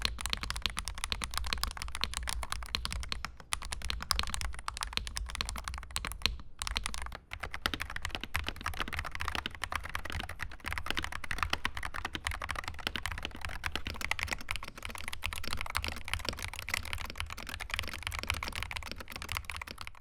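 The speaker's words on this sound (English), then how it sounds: "You can just listen to them and let me know in the comments which keyboard sounds better to you." Steady, fast typing on two Hall effect mechanical keyboards, an AntEsports Apex 200 and a Kreo Hive 75, continuous dense key clacks with no talking throughout.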